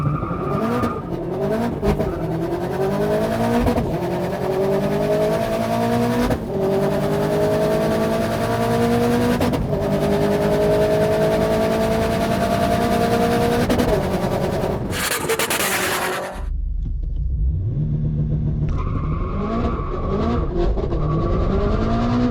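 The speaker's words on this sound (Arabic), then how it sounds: "اعطيكم دوسة لونش كنترول تشوفوا قوة السيارة، تسارع، شوفوا الغيارات كيف اول ثاني ثالث" A 725 hp rear-wheel-drive Toyota 86 launches hard on launch control and accelerates through the gears, a loud close engine roar with rising pitch sweeps broken by quick shifts, then a sharp cut and a quieter idle.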